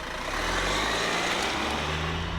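2018 Chevrolet Cruze diesel hatchback under acceleration, a steady engine drone with road and wind noise, heard from inside the car at a constant moderate level.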